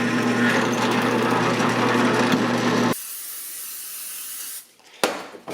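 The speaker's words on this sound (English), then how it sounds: "Each hole will get drilled out to 1/8 inch first, then opened up to" A power drill whirs steadily and close up, opening holes to 5/16 inch for rear air suspension bags on a 1976 Mazda RX-5 Cosmo, then stops abruptly and leaves a quiet pause with a short final burst.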